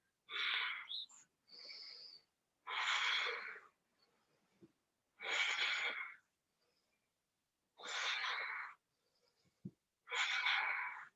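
Forceful exhales in a yoga breathing exercise, a series of about six close, breathy rushes spaced a couple of seconds apart, with soft quiet gaps between them.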